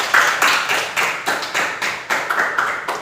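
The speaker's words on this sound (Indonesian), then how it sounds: "tepuk tangan buat semuanya." Classroom of students clapping together in short rhythmic bursts, a series of quick, fairly close group claps with brief pauses between them and no talking.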